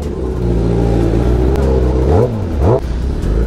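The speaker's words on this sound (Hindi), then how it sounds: "चलो बाइक निकालते हैं अपनी दोनों और निकलते हैं यहाँ से" A modified KTM Duke 390 motorcycle idles with a steady low drone, then two sharp throttle blips rise and fall in quick succession before settling back to idle, loud and close.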